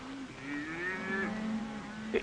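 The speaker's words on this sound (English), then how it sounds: "Dominique, these poor cattle, they don't got no home" Cattle low in a long, drawn-out moo that rises and bends in pitch, followed by a lower steady bellow, with no voices present, heard close and clear against a quiet background in a 1940s Western film scene about wild range cattle.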